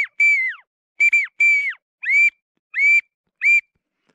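Six short whistled decoy calls, imitating a wigeon, ring out alone in clear bursts, each a high shrill note with a quick falling tail, evenly spaced with silent gaps between them during a spring duck hunt.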